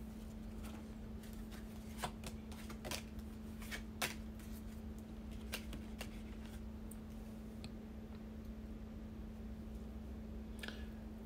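Cards are shuffled and riffled in repeated soft crisp bursts during a tarot-style reading, close up over a steady low electrical hum.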